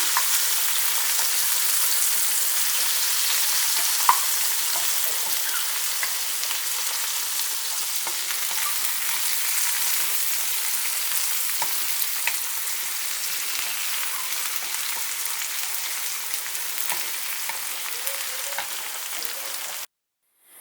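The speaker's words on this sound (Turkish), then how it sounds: "Şimdi hep birlikte güzelce şöyle salçanın kokusu çıkana kadar kavuruyorum" Tomato paste with thyme and cumin frying in a pan, a steady bright sizzle lasting throughout with faint stirring scrapes, then cutting off abruptly at the end.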